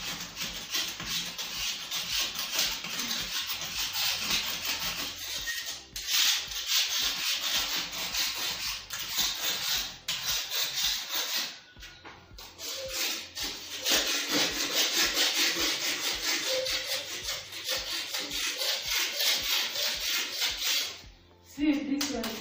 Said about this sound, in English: So I have to use this old pan to remove it, to scrub the floor.